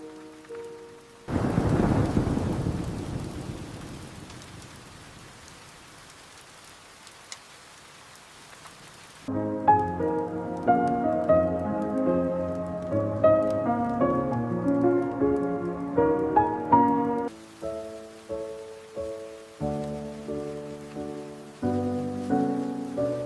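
Nighttime rainstorm outdoors with thunder: a loud rumbling crack of thunder gives way to steady rain hiss, while soft melodic chime-like notes play throughout.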